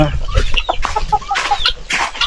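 Native chickens cluck and chatter close by on a small farm, several birds making overlapping short calls and squawks in a busy, continuous stream.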